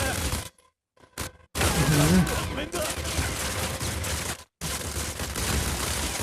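Rapid bursts of gunfire from the Modern Combat 5 shooter game, dense and loud with a couple of abrupt silent gaps, while a voice talks over the shooting.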